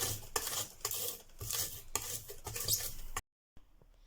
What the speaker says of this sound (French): on va venir faire rouler les petits grains de sel sur l'ail pour réaliser une purée d'ail